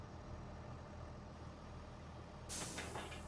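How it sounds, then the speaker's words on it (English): A heavy truck in Farming Simulator 25 rumbles at idle, then a sharp air-brake hiss bursts in near the end, loud and close with no talk. "Okay, so we'll start this truck."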